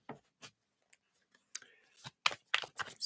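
Playing cards are shuffled by hand, making a few soft, sparse taps, then quick papery riffling bursts toward the end, quiet and close, with no talking.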